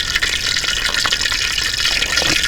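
Water is poured into onion bajji batter in a village kitchen, a steady close gush of liquid running for the whole stretch with no talk over it.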